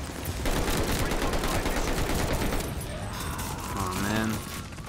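Rapid automatic gunfire from a video game weapon shredding a juggernaut enemy, dense and loud bursts with a tonal effect near the end, continuous with no pauses.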